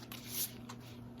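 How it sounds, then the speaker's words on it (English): Tarot cards are shuffled softly by hand, with a few faint riffling brushes and slaps close by in a quiet room. "I'm going to shuffle"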